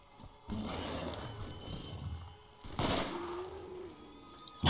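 Rifle fire from the video game Borderlands, two bursts of gunfire, the first a sustained rattling volley and the second a sharper, louder blast, heard alone with no talk.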